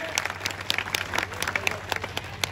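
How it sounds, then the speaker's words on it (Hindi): Listeners at a humorous Hindi poetry gathering in Bihar break into hearty applause for a poet, a close, continuous patter of many hands clapping with sharp peaks throughout. "एक बार जोरदार तालियां बजे"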